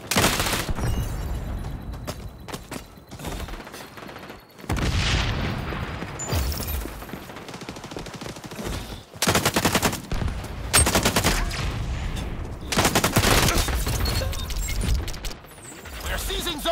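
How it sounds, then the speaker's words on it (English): Loud bursts of gunfire and a booming frag grenade explosion in the multiplayer shooter XDefiant, with repeated heavy volleys and rapid shots close by in a busy capture-zone match. "Throwing frag. Grenade out."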